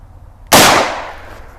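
A single loud, close rifle shot from a Marlin 45/70 carbine being sighted in outdoors: a sharp crack followed by a decaying blast that trails off over about a second.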